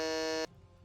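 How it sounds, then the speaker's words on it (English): A quiz buzzer in a League of Legends Jeopardy game gives one loud, harsh electronic buzz for about half a second, then cuts off abruptly into quiet room tone. "Ollie, Cheese, Grant, I'm going to need a buzzer at some point."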